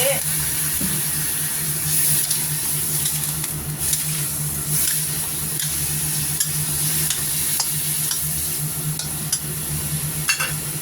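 Vegetables and shrimp stir-fried in a pan with a splash of water, a steady sizzle with scraping stir strokes running throughout, close and fairly loud, with a faint low hum beneath.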